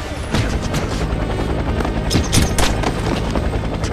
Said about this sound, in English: A cat helicopter?